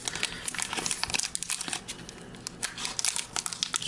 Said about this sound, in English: Why are these packs so hard to open?